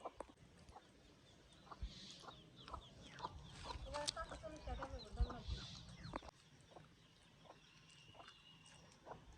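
Hens with a few newly hatched chicks cluck nearby in a village yard, soft repeated clucks and faint peeps mixed with people talking in the background.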